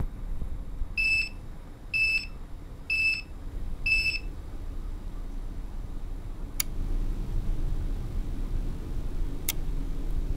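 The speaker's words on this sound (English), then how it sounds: "The UPS is now beeping, indicating that there is no power supply." An aquarium backup UPS beeps after a power cut: four evenly spaced high electronic beeps about a second apart, loud and clear over steady low hum, followed by a couple of faint clicks.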